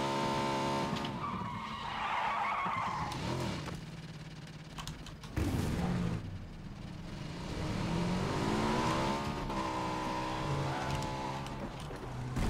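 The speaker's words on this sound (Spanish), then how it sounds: "Aquí hay un coche, si queréis." A car in the PUBG battle royale game drives and repeatedly skids, its engine revving and droning loudly while tires squeal in long sliding streaks, with a sharp thud partway through.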